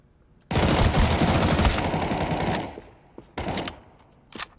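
A rifle in a video game empties a 16-round magazine in one loud, continuous rapid burst lasting about two seconds. A shorter burst follows after a pause, then a few scattered shots.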